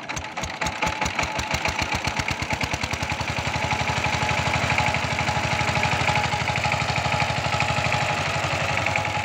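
A power tiller fitted with one iron wheel and one rubber tyre wheel, set to plough a field, cranks up into a loud, close, chugging single-cylinder engine that settles into a fast steady knocking rhythm with vibration.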